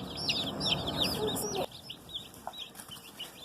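Chicks and chickens in a playpen brooder give a busy chorus of close, high cheeps and soft clucks, denser at first and then sparser after a brief thump.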